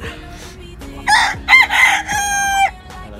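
A chicken crows loudly and close by in a few rising bursts that end in a long held note, with light background noise and no talking.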